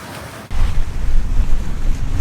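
A sailboat under sail with engines off crosses open ocean, with rushing waves and hull wash alongside heavy wind buffeting on the microphone, loud and continuous, no voices.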